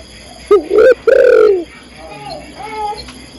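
A female spotted dove calls to a male with a few close, loud cooing notes, followed by softer bird calls in the background.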